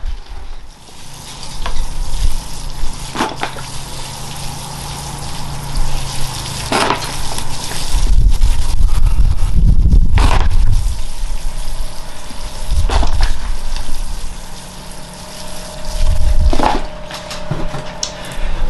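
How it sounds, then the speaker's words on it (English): Water is poured over a freshly repotted berry bonsai set on a rock, making a continuous trickling and splashing rush that swells and fades in several close, fairly loud waves. "A little bit of water there for the tree."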